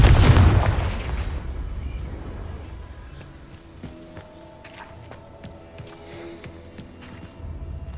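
Confringo explosive spell cast in Hogwarts Legacy, a loud close boom at the start that trails off into a long fading rumble with scattered small clatters and thuds afterwards.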